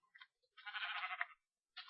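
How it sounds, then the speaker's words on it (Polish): Short sheep bleats from a Minecraft sheep being hit, a few quick nasal cries with one longer bleat in the middle, clear and isolated against silence. "Uderzę owce, owce nie trzeba zabijać."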